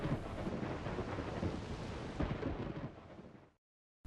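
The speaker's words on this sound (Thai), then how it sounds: "The thunder is very loud." Loud rolling thunder rumbles on for about three and a half seconds, a dense deep roar with a few sharper cracks, then cuts off abruptly to silence.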